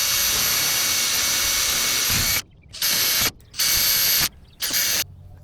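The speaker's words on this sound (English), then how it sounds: "Here I'm just using a regular 1/8" bit, which is about right, to pre-drill the holes." A power drill with a 1/8 inch bit bores pilot holes in metal roofing: a loud continuous whine, then three short bursts separated by silences as the trigger is released, close up with no talk.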